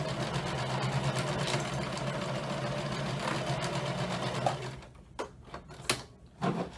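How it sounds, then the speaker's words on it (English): A sewing machine running straight stitch back and forth over fabric, making a steady close mechanical whir that breaks into short stop-start bursts near the end, with no voices. "I'm on straight stitch, so here we go. Just going back and forth a few times."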